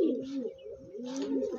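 Andhra pigeons for sale give soft, close coos in two rolling, throaty phrases, with faint background noise and no talk.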